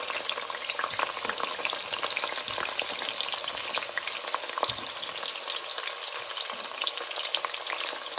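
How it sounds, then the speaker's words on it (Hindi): Onions fry in a pan for an aloo gosht base, giving a steady, dense sizzle and crackle that runs without a break, with occasional scrapes as they are stirred. "प्याज जल रही है"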